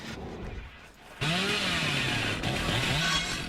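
A chainsaw roars to life in the video game Dead by Daylight, snapping in abruptly loud after a quieter stretch and holding a steady buzzing drone with a slight wavering pitch, with no voices over it.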